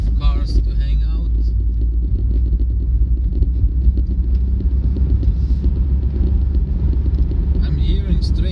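A car drives along a road, with a loud, steady low engine and road rumble filling the whole stretch while a person talks over it.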